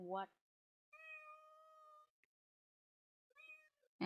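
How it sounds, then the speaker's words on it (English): A domestic cat meows close by, one long meow and then a shorter one after a pause, with a brief voice at the very start and end. "that's my cat. She said hello."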